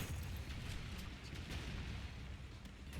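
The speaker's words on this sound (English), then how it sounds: "Ignore the explosions." Explosions in a video game, a sustained rumbling roar of booms and bursts with heavy low-end, continuous and loud across the whole stretch with no talk over it.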